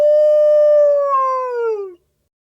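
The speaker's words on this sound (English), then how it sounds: "The sound of wolf is howl." A wolf gives a single loud, clear howl that holds steady, then bends downward and stops after about two seconds, heard alone and close.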